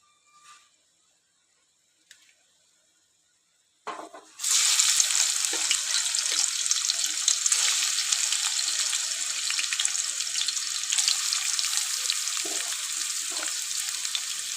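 Sliced onions tipped into hot oil that had been used for frying fish while making prawn curry; a few faint taps, then a sudden loud hiss that settles into steady, close sizzling with nobody talking.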